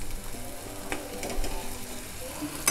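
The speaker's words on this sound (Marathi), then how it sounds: "हे मसाल्याबरोबर जरा परतून घ्यायचं. आता तुम्ही बघाल ना त्याला कडेने तेल सुटणार आहे." Ground masala paste sautéed in oil sizzles steadily and close by, a continuous hiss and crackle with faint stirring throughout.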